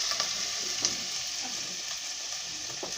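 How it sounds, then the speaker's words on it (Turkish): Tomato paste sizzles in melted butter in a pan, a steady close hiss with faint stirring clicks that continues without a break throughout. "Arkadaşlar şimdi tereyağımızın içine salçamızı koyuyoruz."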